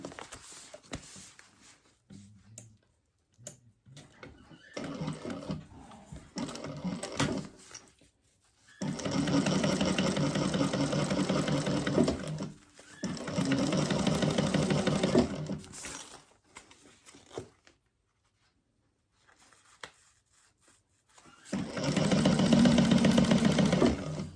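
A sewing machine stitches fold-over elastic onto a crossbody bag, running in three long sustained loud whirring bursts separated by quiet pauses and a few shorter stops and starts, close up and with no talking.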